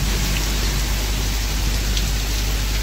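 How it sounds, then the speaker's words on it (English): Light rain falling in the Bahamas during a squall, a dense steady patter of drops hissing continuously and close throughout, with no talk. "Just a little light sprinkle here."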